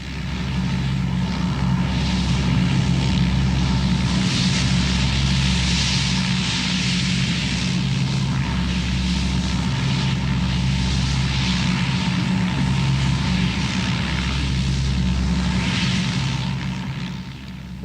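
Loud, continuous propeller-driven rescue plane engine during an evacuation, a steady roaring drone with a throbbing low hum and swelling high rushes, close and alone without talk.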